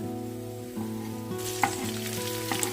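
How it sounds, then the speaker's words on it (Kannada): Chillies dropped into hot ghee and frying, a constant soft sizzle under a low hum, with a few brief crackles and stirring taps toward the end. "ಇದಕ್ಕೆ ಇವಾಗ ಆ ತುಪ್ಪದಲ್ಲೇ ಮೆಣಸಿನ್ಕಾಯಿ ಹಾಕ್ಕೊಳ್ಳೋಣ"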